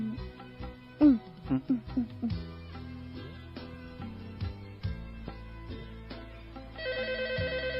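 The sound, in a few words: telephone ringing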